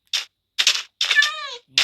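A cat meows repeatedly in the video game Minecraft, producing several short, close, bright mews and then a longer drawn-out meow that slides downward in pitch, separated by brief silences.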